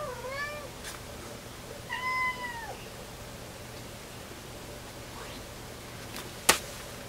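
A domestic cat meows a few times indoors, faint and close, with short rising-falling calls separated by pauses over a quiet room background, ending with a sharp knock.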